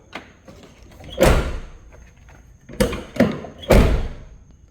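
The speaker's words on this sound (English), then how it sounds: "Watch me close the door and it's gonna go off." A Porsche 911 (992) door shutting several times, solid thuds spaced a second or two apart with a quieter initial click, close up and alone.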